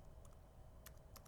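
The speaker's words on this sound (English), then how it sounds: "So I can type rm" Short bursts of computer keyboard keystrokes as the rm command is typed, a few soft clicks in two small clusters over low steady background hum, no voices.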